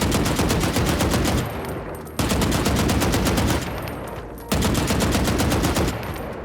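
Automatic rifle fire on a training dummy in the video game Valorant, three long, rapid, loud bursts of evenly spaced shots, each trailing off into a short echoing tail.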